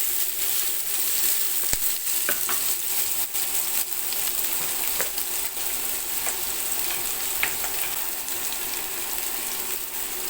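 About a cup of chopped onions fry in oil for chicken curry, giving a steady close sizzle with occasional light clicks and scrapes of stirring and no talking.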